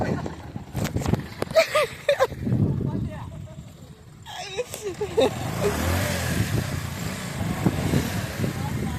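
A motorcycle stuck in mud revs and strains in uneven bursts, rising and falling, with people talking over it.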